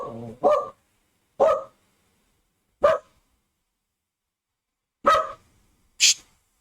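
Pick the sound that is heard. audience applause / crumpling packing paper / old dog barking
old dog barking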